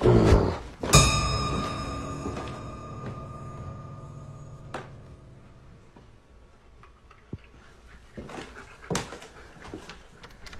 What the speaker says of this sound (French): Et même le chien semble être affecté.